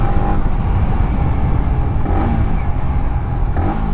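A Yamaha MT-15 motorcycle fitted with an Akrapovic full exhaust accelerates hard, its engine note a loud, steady, close-up roar that runs for the whole stretch with no speech.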